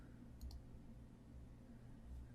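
A single faint computer mouse click, then a quick second one, heard close over a steady low background hum.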